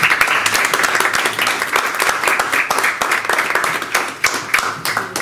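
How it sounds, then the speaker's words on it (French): A seated audience at a community discussion meeting breaks into dense, steady applause, many hands clapping together at full volume for several seconds without a pause. "On applaudir Isabelle"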